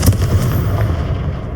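A Confringo blast spell goes off in the Hogwarts Legacy video game as a sharp, loud explosive burst followed by a rumbling tail that fades away.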